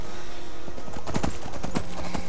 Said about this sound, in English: Laurus of Braavos has no control over where this horse is going.